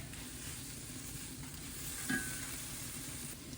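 Besan roasting in a pan with lime juice and a little sugar, a faint steady sizzle and hiss with one brief clink of a utensil midway, quiet and close, no voices.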